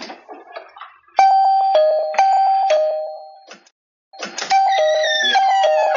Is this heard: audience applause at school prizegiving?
no